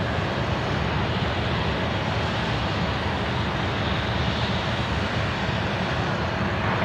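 A jet airliner landing at Sydney Airport gives off a steady broad roar of engine noise that stays loud and even throughout, with no voices over it.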